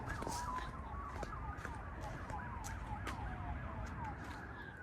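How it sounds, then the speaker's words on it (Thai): A police car siren wails in the distance on a foggy evening in a residential neighbourhood in Belgium, its rising and falling tone faint but steady throughout, with no talking and the outdoor air under it. "เสียงรถตำรวจค่ะ"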